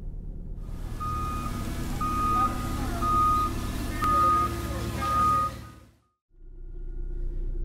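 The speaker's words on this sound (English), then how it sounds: "Inspect the backup alarms and lights." Forklift backup alarm beeping steadily about once a second over a low engine rumble during a pre-shift inspection at a box and pallet yard, five or six clear beeps close by before cutting out, with a voice speaking over part.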